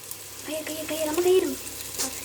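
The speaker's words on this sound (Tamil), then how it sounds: "இப்போ இஞ்சி பூண்டு பேஸ்ட் போட்டுக்கலாம்" Onions, chilies and ginger garlic paste fry in hot oil, a steady hissing sizzle with a brief voice-like tone rising over it partway through.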